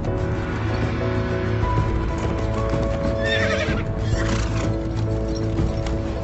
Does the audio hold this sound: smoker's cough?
no